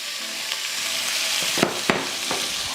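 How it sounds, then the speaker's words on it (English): Ground beef sizzles and spits in a hot pan with steady close frying noise, a couple of sharper crackles or pokes from a spoon breaking up the meat, no one talking. "let's just go ahead and add our ground beef"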